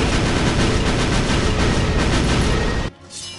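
Dense, loud video game gunfire roars nonstop in rapid automatic bursts, then cuts off abruptly near the end, leaving a faint lingering tail.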